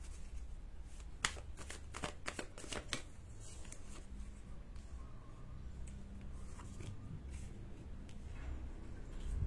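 A deck of tarot cards being shuffled by hand, with quick crisp riffling bursts in the first few seconds, then softer sliding and tapping, quiet and close.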